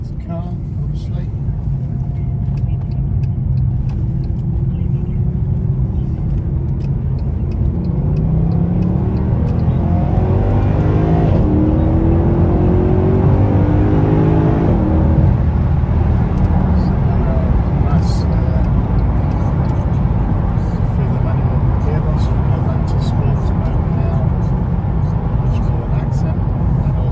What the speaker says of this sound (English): It's quite a nice burble from the sports exhaust.